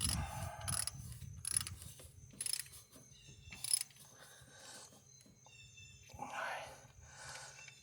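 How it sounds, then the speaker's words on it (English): Ratchet wrench tightening the transmission dipstick tube on a 1995 Dodge Dakota: close, rapid bursts of pawl clicking in several short runs, separated by brief pauses, with a faint mechanical rattle in the background. "switch the ratchet to clockwise. Or some people are easily taught lefty loosey, righty tighty."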